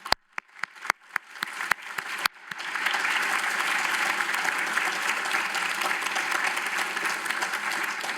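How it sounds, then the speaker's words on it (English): At an awards ceremony, a few sharp, scattered claps ring out one by one before the whole audience joins in, swelling into full, sustained applause for the finalists that holds steady to the end. "please join me in a round of applause for all our brilliant finalists"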